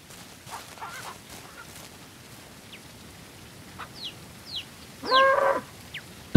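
Chickens feeding in Ranch Simulator give scattered short clucks and squawks over a quiet farmyard background, with one louder call near the end.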